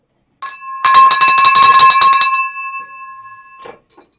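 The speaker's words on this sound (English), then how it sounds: "if that doesn't deserve a bell ring" A hand bell rings out loud and bright, a rapid cluster of strikes ringing into a sustained metallic tone that fades over a few seconds, with a faint second ring near the end.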